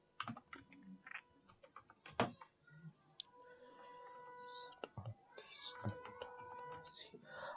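Keys clatter on a computer keyboard as an Aadhaar number is entered, in short irregular bursts of clicks that are close and fairly quiet. Soft speech is heard in between.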